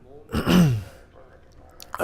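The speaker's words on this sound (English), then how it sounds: "I keep fucking yawning" A streamer yawns aloud while playing Planescape: Torment: a single drawn-out, breathy yawn with a rising then falling vocal tone, close to the microphone, lasting about half a second before fading into quiet game sounds.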